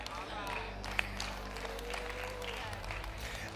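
Women in an audience give light, faint applause, a steady patter of hands clapping at low level for a few seconds.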